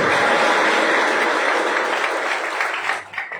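A seminar audience claps together in sustained, dense applause that stays loud and even before thinning and fading out near the end.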